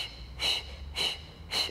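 Three audible breaths, close and rhythmic, forced out about every half second during the Pilates hundreds exercise in a matwork class, with no talking.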